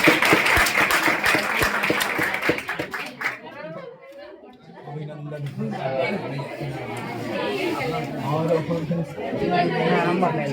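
A student audience gives loud applause at a coaching centre's celebration of exam results, dense clapping for about three seconds before it fades into chatter and voices.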